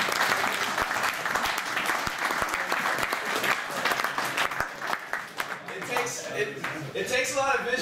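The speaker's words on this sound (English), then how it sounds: "So let's give them a real deal round of applause." Audience applause at a team Germany ultimate frisbee training camp event, a steady dense round of clapping that thins toward the end with a few scattered claps and faint voices.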